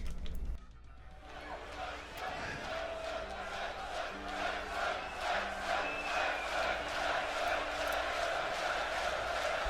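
A large festival crowd roars and cheers at a heavy metal concert at Wacken 2014, a dense sustained wash of voices with sung tones rising through it.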